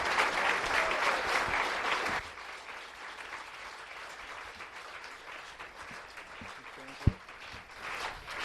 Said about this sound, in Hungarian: welcome him and honor him with a big round of applause.